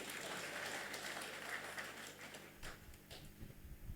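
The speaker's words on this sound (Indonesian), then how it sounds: "kasih tepuk tangan dulu ini" Audience applause at a stage performance, a steady dense clapping that runs the whole time and thins slightly toward the end, moderately distant.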